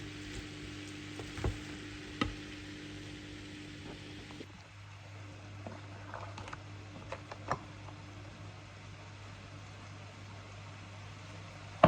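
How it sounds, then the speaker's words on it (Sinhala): A spoon stirs lasagna meat sauce in a pan, giving a soft steady sizzle with scattered scraping taps and clicks, fairly quiet throughout. "ඒක මස් වලට හොඳට තාවදනකම් මම එක හැන්දෙන් කලවම් කරන හැටි තමයි මේ පේන්නේ."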